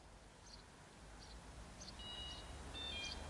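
An electronic fishing bite alarm being tested beside an oxbow lake gives several short, faint high-pitched beeps at irregular intervals over a low outdoor background.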